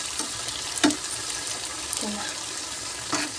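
Bajji fritters sizzle steadily in hot oil, a continuous close crackling hiss with a few sharper pops and bursts as batter drops in; no one speaks.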